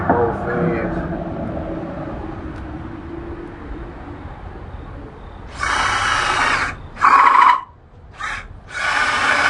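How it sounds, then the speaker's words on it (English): A power drill boring a countersink in wood for a dog kennel build starts and stops in several short bursts after a stretch of talking, the motor whirring loud and close. "You drill so far, start up, stop it."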